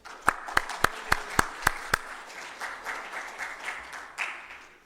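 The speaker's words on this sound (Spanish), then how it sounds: "Un aplauso para Seti, por favor." A conference audience at a Peruvian mining institute event gives brief applause, opening with several sharp, evenly spaced claps before spreading into softer, scattered clapping that fades out, with no talk.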